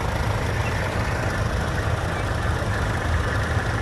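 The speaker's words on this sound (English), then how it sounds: "You listen to the crackle that comes from this tractor." A short-wheelbase diesel tractor engine runs steadily up close at a steam rally at Castle Combe, its low, rough chug and crackle continuous and loud throughout, with no voices.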